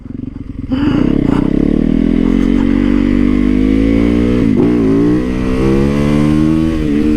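A motorcycle engine fires up close and loud, then revs and climbs steadily in pitch, dips briefly, and keeps pulling hard with a rough, throaty tone.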